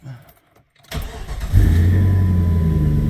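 A 2002 Jeep Grand Cherokee with the 4.7 engine, suffering from melting ignition coils, cranks briefly after a quiet pause, catches, and settles into a steady, close idle.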